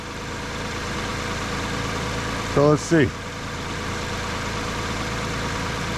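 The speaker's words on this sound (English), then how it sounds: "Engine starting." A car engine idles steadily during a charging-system check with a TopDon BT100 battery tester, a constant mid-low rumble running throughout while someone briefly speaks over it midway.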